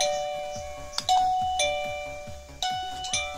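An electronic doorbell chimes repeatedly, several bright ding-dong tones ringing out one after another with fading tails.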